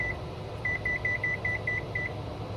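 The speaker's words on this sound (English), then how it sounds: "So I'm gonna put a timer on for 8" Kitchen timer being set in a home kitchen: a short series of about eight evenly spaced high beeps, close and moderately loud, with no voices.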